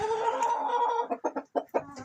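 Young hens about ten to eleven months old cluck in a coop, first a steady murmur of several birds, then a run of short clucks pulsing in quick rhythm close to the mic, with no talk.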